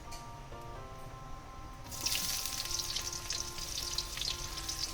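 Chopped onion goes into hot oil with nigella seeds in a kadai, and a loud, steady sizzle jumps up partway through. Before that there is quieter cooking with a thin tonal hum, and the sizzle then holds close and continuous.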